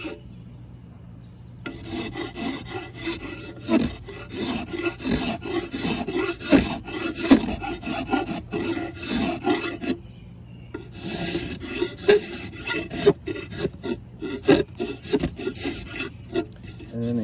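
A file rasps steadily in repeated back-and-forth strokes across a wooden axe handle, thinning down lumps, with one brief pause partway through; close and fairly quiet, with no voices.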